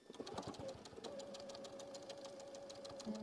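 Sewing machine stitching across a quilt block with a back tack, a quiet, rapid, even needle chatter that runs without a break.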